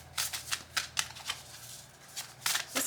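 Earthcraft Oracle cards are shuffled up close in quick, papery slaps and riffles, an irregular patter of short bursts with no voices.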